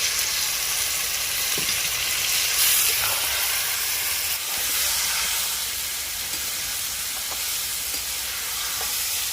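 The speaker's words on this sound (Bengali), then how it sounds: "এবারে দিয়ে দিব মাংসটা" Goat meat for a thin red curry sizzles steadily in a hot pan after cumin, coriander and garam masala go in, a continuous bright frying hiss with a few soft stirring clicks and no talk.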